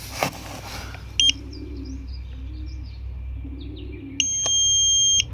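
A pigeon racing clock gives a short electronic beep, then a longer sustained beep at the end, with soft pigeon cooing in the background.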